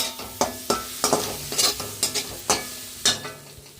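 Egg fried rice with vegetables being stir-fried in a pan, a steady run of sharp scraping stirs and tosses, about eight strokes over a soft sizzle, close and fairly loud with no talk.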